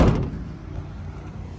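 A door shuts with a single dull thud on a 2016 Mercedes-Benz Sprinter 2.1 CDi MWB panel van, followed by a low, steady background rumble with no talking.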